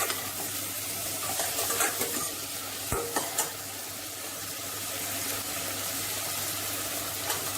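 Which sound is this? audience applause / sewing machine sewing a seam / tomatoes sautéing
tomatoes sautéing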